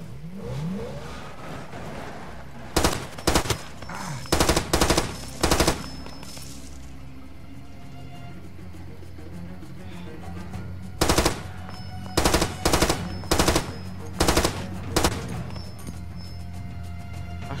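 Automatic weapon fire in the Far Cry 2 video game, heard as loud, close bursts of rapid shots in clustered volleys over a rumbling engine-like game background.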